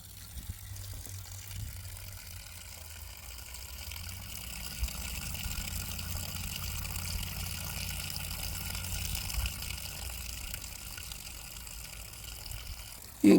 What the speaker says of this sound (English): you can see there's a pipe with water coming out of it